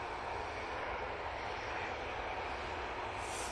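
An airliner departing Manchester Airport for London Heathrow gives off a steady, broad engine roar, heard continuously and moderately distant throughout, with no talk.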